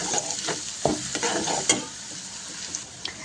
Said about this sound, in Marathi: कढीपत्ता घेतला उभा कट करून तो सुद्धा घालून घेऊया इथे आलं लसूण पेस्ट घालून घ्यायची छान मिक्स करून घेऊया